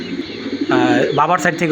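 A pair of pigeons in a home coop coo low and soft, briefly on their own and then under someone talking over them.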